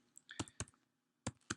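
A computer keyboard being typed on to enter a URL, a few close, crisp key clicks in an irregular rhythm, with quiet gaps between them.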